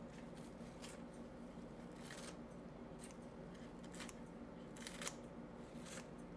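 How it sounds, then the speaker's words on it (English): Kitchen scissors snip green onions straight into a crab dip, giving a run of short, crisp cuts at an uneven pace over a steady, faint background hum. "Last thing we're gonna add is some green onions. I'm just gonna cut those right on up in there."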